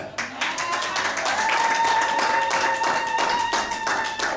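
A church congregation claps in a fast, steady rhythm to acclaim the Lord, loud and close, with a sustained sung or organ-like tone running through the clapping.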